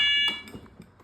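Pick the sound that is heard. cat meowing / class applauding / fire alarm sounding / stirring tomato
fire alarm sounding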